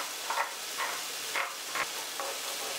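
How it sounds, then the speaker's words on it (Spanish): Meat juices and a few drops of lemon hit a hot frying pan while cooking pinchos morunos skewers, giving a steady close sizzle with several brief louder hissing bursts and no voices. "apagamos el fuego y echamos en la sartén todos los jugos que había soltado la carne y unas gotas más de limón"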